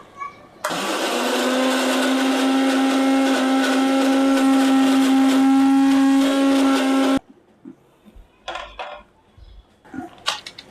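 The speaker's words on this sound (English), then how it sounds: "We're just going to put the contents of our entire sheet pan into the blender here." A countertop blender whirs loudly and steadily for about six seconds, blending a sheet pan's worth of vegetables into soup, then cuts off abruptly, followed by a few quiet clatters and handling sounds.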